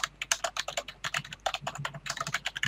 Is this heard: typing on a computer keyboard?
yes